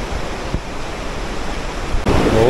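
A mountain river flows steadily with a broad, constant rushing roar, loud and close, and a brief thump midway before the rush swells slightly near the end; no talking.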